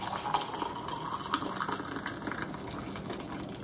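Water pouring into the bottom of a big home canner, a steady, fairly quiet gushing fill with a few small splashes and no speech.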